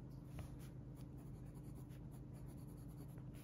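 A fountain pen nib scratches across journal paper in a quiet room, a faint, steady scratching that keeps going through the whole stretch of writing.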